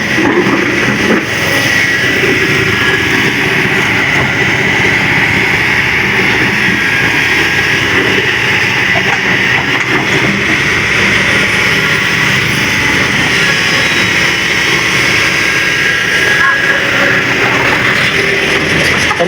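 Loud, dense traffic noise fills a busy road by a bridge under repair in Karawang, with many motorcycles passing in a continuous engine rumble and hiss that never drops away.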